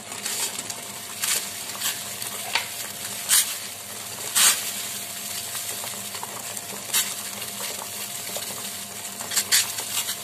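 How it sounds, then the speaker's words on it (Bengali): Sugar syrup bubbles in a pot as rosogolla balls made from fresh chhena are lowered in, a soft continuous simmer broken by several sharp clinks and splashes from a utensil. "এবার এখানে রসটা ফুটছে"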